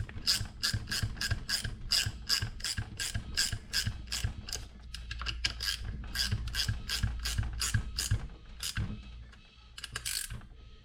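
Rapid, even ratchet clicks tighten a bolt during an air intake install on a Nissan 180SX, close and loud, in repeated strokes with a brief pause midway.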